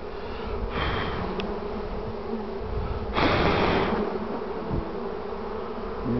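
A young honey bee colony buzzes steadily in an open hive, a dense continuous hum with brief louder swells as bees fly close, and no voices.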